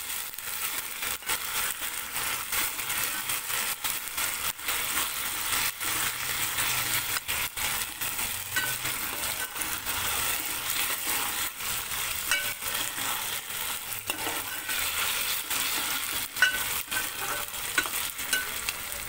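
Browned onions and ginger garlic paste fry in a pan for mutton masala, a continuous soft sizzle broken by frequent scraping stirs, with no voices.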